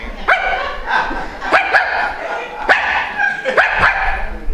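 A person imitates a dog barking, giving a series of sharp, yappy woofs in an uneven rhythm, close and loud.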